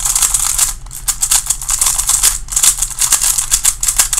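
A magnetic Giiker puzzle cube turned rapidly by hand gives a loud, dense run of sharp plastic clicks, steady and continuous with brief pauses, close up and alone.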